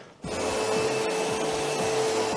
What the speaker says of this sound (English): So next, Mr. Trump, I'm going to need you to vacuum.